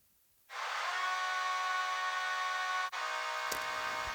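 Wet convolution reverb signal from Kilohertz Snap Heap, with the dry sound disabled: one sustained, bright, harmonically rich tone swells in and holds, dips briefly, then a sharp noisy transient cuts in near the end.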